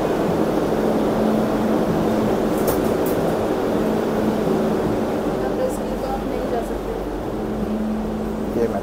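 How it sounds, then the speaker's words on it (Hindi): A metro train pulls into a Sagrada Familia station in Barcelona, a steady loud rumble and rolling hiss filling the whole clip, with faint brake squeals near the middle and voices talking over it. "ये मेट्रो आ गई है"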